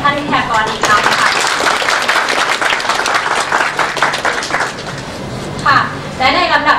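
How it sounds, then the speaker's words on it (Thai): Sustained applause from a seminar audience for the guest lecturers at a Thai logistics talk on Open ERP, dense and steady throughout, with a voice speaking over it near the start and again at the end. "ขอเสียงปรบมือให้แก่ท่านวิทยากรอีกครั้งค่ะ"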